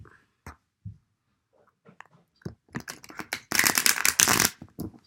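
Large, thick tarot cards riffled and shuffled, a few soft taps building into a dense, loud burst of rustling close up.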